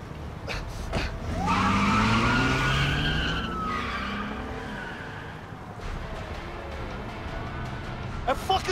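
In the game A Way Out, a car's tires squeal in a long, loud skid, and then the engine roars as the car speeds off and fades. Voices are heard around it.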